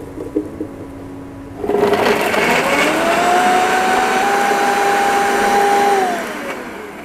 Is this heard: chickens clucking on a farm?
no